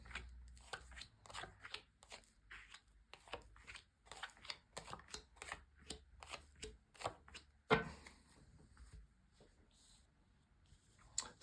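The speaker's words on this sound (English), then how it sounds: "lay down your 10 cards on the table in front of me" Tarot cards handled and laid down one by one on a table, producing a quiet series of crisp taps and soft shuffling flicks at an uneven rhythm, close and alone with no voices.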